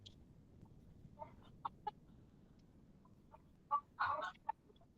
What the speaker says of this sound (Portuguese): Caramba, tem uma galinha aí, velho.